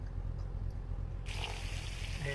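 Water collected in The Long Drive video game, a steady close trickle and pour that swells noticeably brighter partway through, running continuously without talk.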